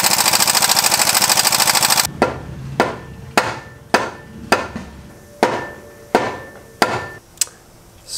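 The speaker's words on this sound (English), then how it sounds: "use the impact wrench, get it as tight as it'll go, and then hammer the pin in" Metal hammer blows strike a pin during clutch removal on a John Deere Gator, about nine sharp ringing hits in a steady rhythm, loud and close, following a few seconds of rattling impact wrench.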